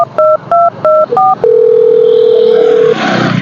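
A telephone number is dialed: four short, evenly spaced touch-tone beeps, then a steady, loud ringback or dial tone that holds for about a second and a half before fading into background noise.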